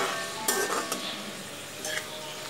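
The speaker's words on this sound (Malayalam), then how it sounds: "അരിഞ്ഞു വെച്ചിരിക്കുന്ന സവാള മുഴുവൻ ഞാൻ ഈ എണ്ണയ്ക്കകത്താണ് വറുത്തെടുക്കുന്നത്" Sliced onions and curry leaves frying in oil for a chicken chukka, a steady close sizzle with a few light stirring scrapes and clinks of a utensil against the pan.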